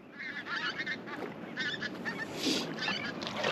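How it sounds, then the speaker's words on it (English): Several geese honk repeatedly overhead, a chorus of nasal calls at moderate distance over a soft, steady background hiss. "Here the geese here coming overhead."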